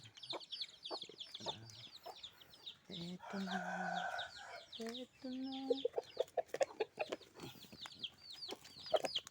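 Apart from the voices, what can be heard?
chicken clucking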